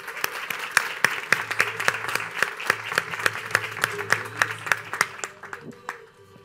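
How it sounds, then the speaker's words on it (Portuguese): Sparse audience clapping welcoming influencer and photographer Matheus Granado, distinct individual claps in an uneven rhythm from a small group, fairly close, tapering off and fading near the end. "Aplausos"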